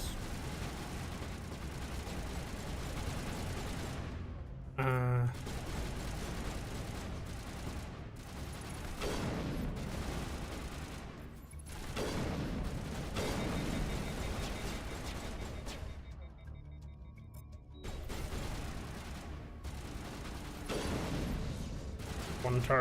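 Defensive turrets firing in Mass Effect, repeated mechanical bursts and crackling shots over a steady combat din that runs the whole stretch, with brief pauses and a few sharper hits.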